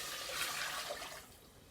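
Chicken broth poured into a cooking pot for a chicken stew, a steady close liquid splashing and gurgling that runs for about a second and then thins out.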